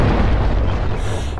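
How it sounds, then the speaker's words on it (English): An enemy BTR armored vehicle blows up in a military video game, a loud, dense boom with a rumbling low tail that holds for over a second. "Garia, we were near the enemy BTR and it blew up."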